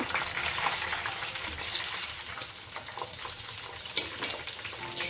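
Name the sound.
deep frying ingredients in oil for homemade hair oil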